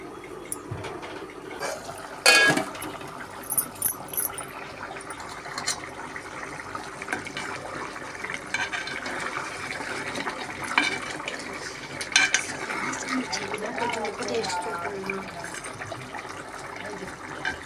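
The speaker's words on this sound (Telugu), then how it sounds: "3 గ్లాసులు వాటర్ వేసుకోవాలి." Water pours and splashes into a pot of rice, a long gurgling trickle with a few metallic clanks of cookware along the way.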